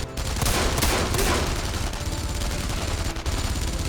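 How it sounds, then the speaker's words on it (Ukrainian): Gunfire from allied soldiers in the World War II shooter Enemy Front, a loud, dense fusillade of overlapping rifle and machine-gun bursts rattling continuously and close, with no talk over it. "Це наші стріляють?"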